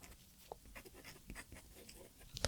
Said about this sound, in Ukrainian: Обов'язково беремо фломастер чи щось е, яскраве і пишемо отуто спинка